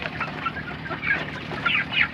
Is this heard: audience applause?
no